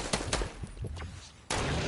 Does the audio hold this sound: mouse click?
no